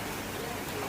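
Steady rain falling outdoors on a wet day, a soft, even hiss of drops that stays continuous and faint for under a second, with a voice faintly present underneath.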